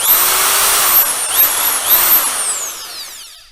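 Power drill whirring at high speed, loud and close, a steady motor whine with a couple of brief pitch dips before it winds down and fades.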